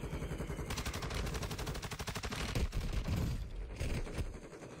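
Rapid automatic gunfire in a video game rattles out as a loud, continuous burst of evenly spaced shots, then breaks into a few heavier blasts near the end.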